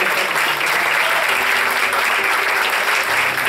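A church congregation applauds during a Spanish-language sermon, a dense, sustained clapping from many people throughout, with a faint voice underneath.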